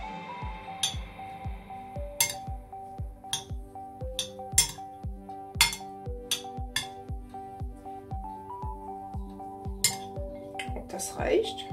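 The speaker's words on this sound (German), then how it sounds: "Das verrühre ich jetzt ein wenig und versuche dabei, die Sachen nicht aus dem Teller zu werfen" A utensil stirring vegan stuffed zucchini filling on a plate: a steady, rhythmic run of light clinks and taps against the dish, about two per second, with occasional sharper knocks over a soft musical background.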